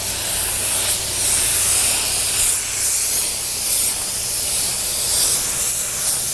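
An LVLP automotive paint spray gun lays down a second, light dusting coat, giving a loud, steady hiss of atomized paint and air that runs unbroken and close throughout.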